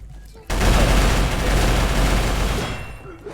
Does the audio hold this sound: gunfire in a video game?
yes